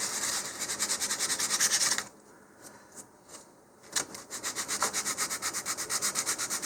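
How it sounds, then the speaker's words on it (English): Rhythmic back-and-forth rasp of 150-grit sandpaper on wooden model rocket parts, sanding with the grain in fast regular strokes, pausing briefly for a few light knocks before resuming. "And I'm sanding with the grain."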